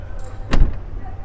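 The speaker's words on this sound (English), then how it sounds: "you also have soft closed doors, so if you just by mistake close the door like that" A 2015 Range Rover Sport's soft-close door shuts with a single brief muted thud against a low background hum.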